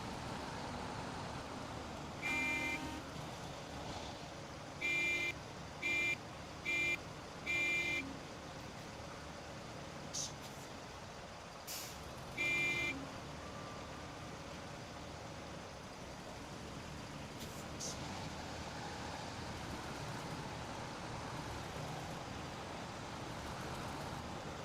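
Heavy trucks grind along a Taymyr, Russia route in SnowRunner with a steady engine rumble, broken by several short tonal blips that could be horn toots.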